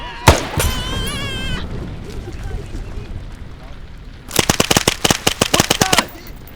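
Gunfire from the Vietnam War video game SOG. A sharp shot or two opens the clip, and a rapid burst of automatic fire runs near the end. Radio-style voices from the game speak in between.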